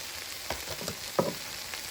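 Seasoned chicken with adobo sizzles softly in a pot, with a few light scraping knocks as the pieces get flipped and stirred, fairly quiet and close.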